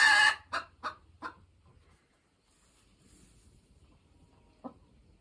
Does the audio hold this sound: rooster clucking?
yes